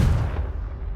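A Confringo blasting spell going off in Hogwarts Legacy, a single loud booming blast that rumbles low and fades out over about a second.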